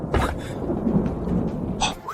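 Thunder from a lightning tribulation in a fantasy drama rolls heavily with a rain-like hiss, loud and sustained, with sharper cracks near the start and end and no voices.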